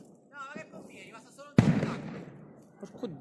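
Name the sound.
firecracker explosion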